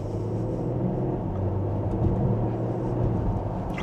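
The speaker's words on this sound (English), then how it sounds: "And just a mild acceleration." Porsche Panamera 4 engine under mild acceleration in normal drive, heard from inside the cabin as a steady, moderately loud low rumble with a faint rising hum and no talking.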